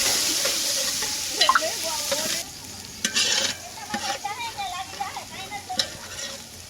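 Maggi noodles sizzle and fry in a home kitchen pan while being stirred, with steady crackling and occasional scraping clinks of the spoon up close. Faint voices murmur in the background.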